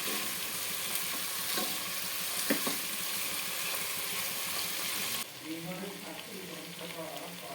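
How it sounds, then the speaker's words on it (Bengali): Chicken frying in hot oil for a biryani-style khichdi, with a steady dense sizzle and a few stirring knocks; the frying grows softer and more bubbly near the end. "চিকেনটা একটু ভাজা ভাজা হয়ে গেলে আমি মশলা দিয়ে দেবো"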